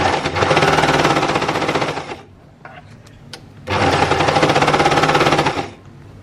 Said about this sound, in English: sew both of them together with our overlocker